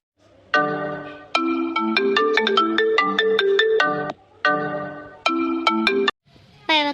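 A mobile phone ringtone plays loudly in bright repeating melodic phrases, pausing briefly between rings, with a faint voice at the end.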